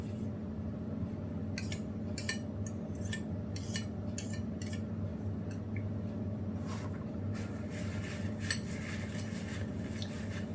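Palette knife mixing orange paint on a palette, a series of quiet scraping and tapping strokes in short clusters over a low steady room hum, close and fairly faint, with no voice.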